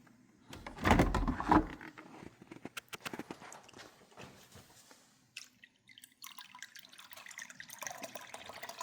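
Fresh water is poured for a cat, with a loud splashing burst near the start and then scattered drips and clinks from a tap or bowl. The sounds are close and no one speaks.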